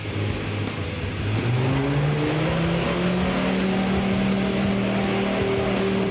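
A Mercedes Geländewagen diesel engine works hard while off-roading over an obstacle course, a loud, steady drone whose pitch climbs and holds as it revs, with no talking.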